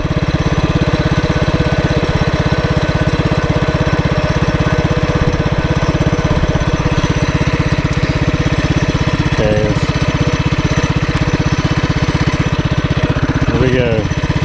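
An ATV fitted with a swapped Predator engine roars loudly and continuously up close during a top-speed run, with a steady buzzing drone and brief pitch shifts near the end.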